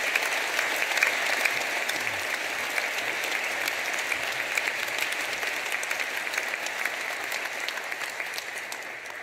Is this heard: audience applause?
yes